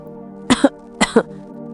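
Two harsh bursts of coughing, each a quick double hack, loud and close against a quiet background.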